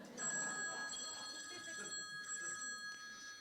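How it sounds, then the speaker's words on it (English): A telephone bell rings as a sound effect, a steady shrill ring lasting about three seconds over faint background noise. "A phone started to ring,"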